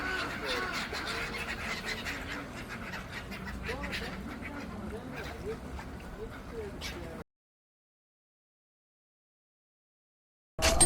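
Ducks quack and chatter amid a busy outdoor seaside murmur with voices, then the sound drops out into silence before a brief return.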